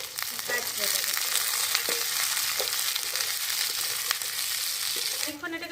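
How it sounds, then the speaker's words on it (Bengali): Chopped capsicum frying in a pan for veg Manchurian, with a loud, steady sizzle and a few faint stirring taps. "আর এখানে ক্যাপসিকামগুলো একটু ছোটো ছোটো করে কেটে নিয়েছি, এগুলো এবার এর মধ্যে দিয়ে দেবো। দিয়ে এবার একটু ভাজতে দেবো।"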